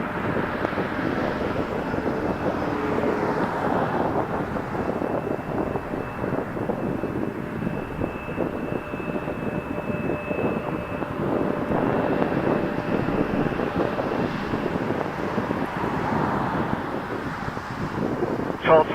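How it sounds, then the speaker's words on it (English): A Jazz Embraer 175 jet takes off from runway 05 at Toronto Pearson Airport, producing a loud, sustained engine roar with wind buffeting the microphone throughout. "It's Jazz 880 once again headed to Newark, New Jersey on a number"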